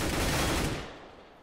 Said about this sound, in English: He's going to get spotted out by Sinks, however, gets headshot